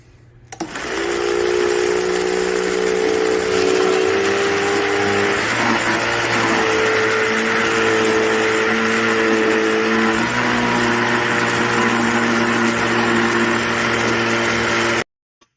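An ice cream maker's electric motor hums and whirs continuously for about fifteen seconds, with slight shifts in pitch partway through, close and loud, then cuts off.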